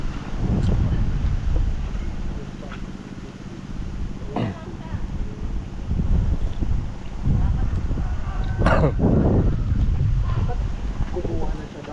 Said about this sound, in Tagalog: Lakas ng hangin, no? Ang lamig ng simoy ng hangin kasi yan, gagaling sa may tubig